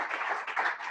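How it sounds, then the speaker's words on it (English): Audience applause at a startup showcase event, a short dense burst of steady clapping from a nearby crowd, with no speech over it. "I'd love to give them a round of applause"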